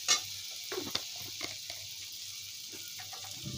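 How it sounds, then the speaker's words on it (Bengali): Dried chili powder and ground cumin frying and being stirred in a pan for a Bengali fish curry, a soft steady sizzle broken by a few faint scraping and tapping strokes, fairly quiet and close, with no talking. "একটু শুকনো মরিচের গুঁড়ো, জিরে গুঁড়ো সব কিছু দিয়ে দিলাম ভালো করে কষিয়ে"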